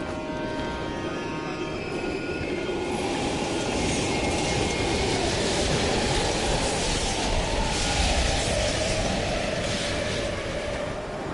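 A train rumbles past an abandoned station in the Call of Duty Cold War game, a loud, sustained roar with rattling wheels and metallic squeals that swells toward the middle and stays close the whole time.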